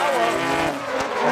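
Two drift cars at a Formula Drift Japan event start a drift together, with a brief burst of engine roar and tire squeal that sounds loud and close, under a commentator's voice.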